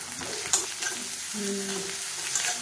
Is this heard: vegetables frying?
yes